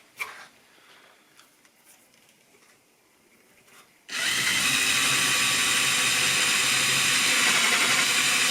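Quiet workshop shuffling, then a power drill bores a 15 millimeter hole into a broken wooden table leg, a loud steady whine grinding through wood for several seconds.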